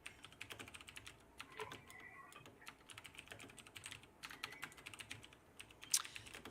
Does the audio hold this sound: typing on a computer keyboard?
yes